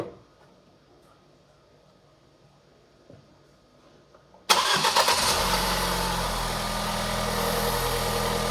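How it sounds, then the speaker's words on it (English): A Ford Focus with a transmission problem sits quiet for a few seconds, then its engine cranks and catches abruptly, settling into a loud, steady idle. "I'm gonna just go and start the car now"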